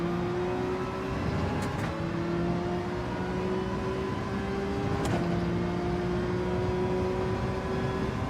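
A Lamborghini engine drones steadily at Fuji in Gran Turismo 7, a sustained mid-pitched whine that rises slowly through a gear, drops briefly at two quick shifts, then holds under constant road and wind noise.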